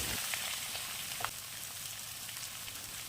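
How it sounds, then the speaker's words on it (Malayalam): Long-sliced onions frying in hot oil with whole spices, a steady soft hiss of sizzling with a few faint pops, close but fairly quiet. "അത് ചൂടാവുമ്പോൾ ഒരു 7 സവാള നീളത്തിലരിഞ്ഞ് ചേർത്ത് ഒന്ന് ഇളക്കി കൊടുക്കണം"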